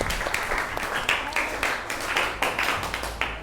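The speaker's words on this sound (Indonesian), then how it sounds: "Silakan diberi aplaus untuk kelompok 3." Applause for a presenting student group at a PPG PAI teacher performance test session, a short burst of clapping from a small audience, fairly close, with some voices mixed in.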